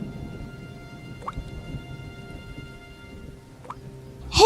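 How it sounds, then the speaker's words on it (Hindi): Indoors at night, rainwater drips from a leaky roof in a few sparse, distinct drops over a low rain-like hiss, ending in a sudden louder bright burst. "सीता, उठ, देख तो छत से पानी टपक रहा है"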